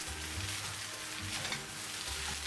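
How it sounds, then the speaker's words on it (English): Shrimp rice noodles with green onion stir-fry in a hot pan, a dense continuous sizzle with brief scraping stirs, close and steady from start to finish. "Briefly stir."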